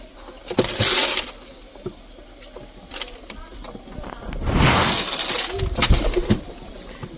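Pigeons being fed mustard seed and lentils coo in soft bursts over a faint background, with a few louder flurries of activity scattered through the moment.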